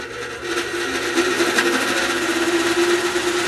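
Electric motor on a 60V 10A controller running at partial throttle, a steady, loud whine with a constant hum, close up and unbroken, with no talk.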